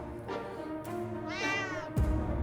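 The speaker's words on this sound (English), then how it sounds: "We got a cat?" A cat in the survival video game 60 Seconds meows a few times, short calls then one longer drawn-out meow, clear and close over a steady background drone, with no talking.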